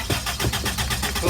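A 1989 Isuzu Trooper engine cranks and tries to catch, giving a loud, steady, rhythmic churning up close that never settles into a smooth idle.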